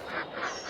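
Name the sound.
ducks quacking on a farm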